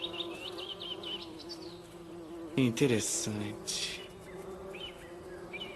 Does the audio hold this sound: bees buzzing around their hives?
yes